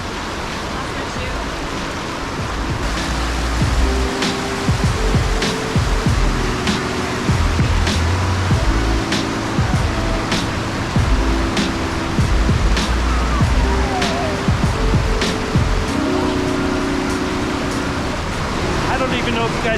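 Loud, steady roar of rushing waterfall water at Zapata Falls, Colorado, swollen by spring snowmelt, continuous broadband noise filling the whole clip with no voices.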